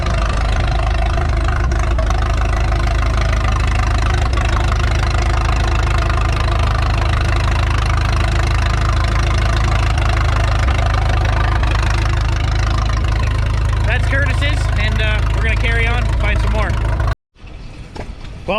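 An antique tractor engine runs steadily at an agricultural show, a loud continuous low-pitched idle with knocking rhythm filling most of the clip, with people talking nearby and an abrupt cutoff near the end.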